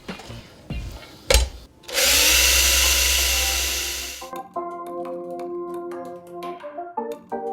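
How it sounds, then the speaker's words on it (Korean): Power drill countersinking a screw hole in a model vehicle body, one loud steady whirring burst of about two and a half seconds, framed by brief clicks and handling knocks and followed by faint tonal background sounds. "그 다음은 여기에 이제 싱킹 작업을 해줄게요."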